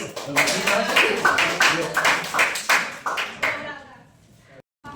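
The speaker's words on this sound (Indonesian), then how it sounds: "beri tepuk tangan" A class claps hands together in a classroom lesson, a run of brisk, fairly loud rhythmic claps lasting a few seconds before fading out, with voices mixed in.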